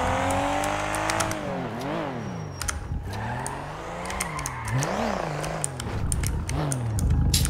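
Nissan Skyline R34 engine in GTA revving up and down in repeated swells, loud and continuous with a steady rumbling drone, sitting close and alone without talk.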